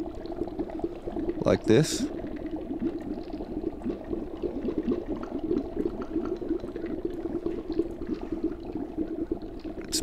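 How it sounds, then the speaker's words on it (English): Synthesized fizzy soda bubbling like boiling liquid, made with granular synthesis, crackles steadily throughout, with a brief burst near the start and a voice speaking briefly over it. "It's boiling a lot,"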